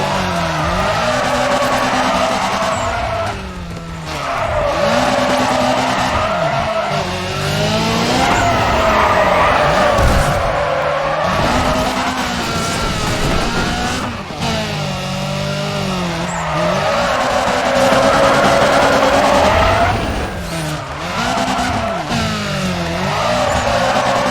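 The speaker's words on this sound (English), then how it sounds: "I press the handling brake and then press the regular brake to stabilize" Car engine revving with repeated long tire skids and squeals as a handbrake slide is caught with braking in the racing game NFS ProStreet, loud and continuous with rising and falling engine pitch.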